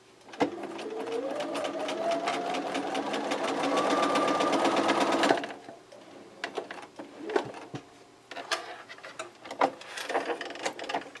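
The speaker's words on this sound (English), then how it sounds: "And just sew with a 1/4 inch seam." A sewing machine runs steadily for about five seconds, stitching quilt strips right sides together with a quarter-inch seam for a Lulu Roses quilt, then stops, leaving soft handling clicks and fabric rustles.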